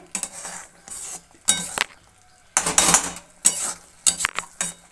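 Taro stem mash is mixed with salt, turmeric and chilli powder in a pot, heard as several bursts of scraping and clinking of a spoon against metal, with short quiet gaps between strokes.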